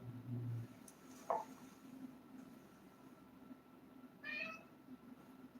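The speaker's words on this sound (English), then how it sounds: "Did you say meow?" Indoor house cat giving two short meows, the second a higher, brighter call a few seconds after the first, faint against a quiet room with a low hum.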